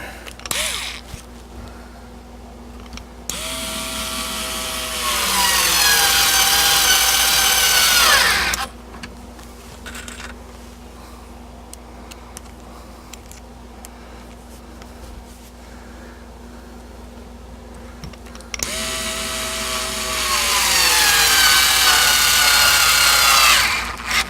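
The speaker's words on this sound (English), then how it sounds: "And we'll just start putting the screws in." A power drill drives square-head pocket screws into a wooden cabinet in two long bursts, each a rising motor whine, separated by a quieter stretch of small clicks and handling noises.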